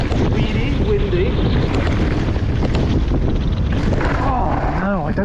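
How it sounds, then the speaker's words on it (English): Wind blows steadily through a video game, a loud, constant rushing roar with gusty swells, while faint tonal game sounds drift and a voice talks at times underneath. "Oh, it's a little bit windy."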